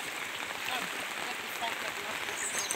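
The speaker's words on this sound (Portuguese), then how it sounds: "ô chuva grande." A steady wash of heavy rain, about 90 mm, hisses over a surface on a rural smallholding in Brazil, fairly close and constant, with a person's voice mixed in underneath.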